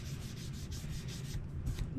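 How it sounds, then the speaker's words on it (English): Rhythmic back-and-forth rubbing of 600-grit sandpaper on guitar frets, about seven quick strokes, close and steady with a brief pause near the end. "I'm just going through now and sanding down the tops of the frets"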